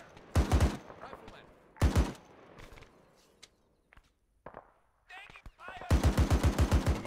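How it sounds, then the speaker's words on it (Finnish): In-game gunfire from Arma Antistasi: bursts of rapid rifle shots open and close the stretch, with scattered single shots and quieter movement sounds between them, all loud and close. "Nyt ammutaan vielä päätieltäkin."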